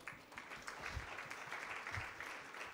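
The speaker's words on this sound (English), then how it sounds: "you stand up and we clap for you" A conference audience claps for attendees from Rwanda at an East Africa capital markets event, a steady, faint roomful of applause lasting a few seconds.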